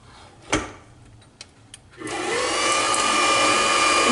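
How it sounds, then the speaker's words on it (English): A stand mixer with a dough hook starts up on low speed to work soft pretzel dough with butter. A few clicks and knocks come first, then a steady motor whine and churning hum carries through to the end. "mix on a low speed"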